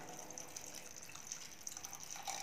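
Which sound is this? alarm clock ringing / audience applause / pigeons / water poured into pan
water poured into pan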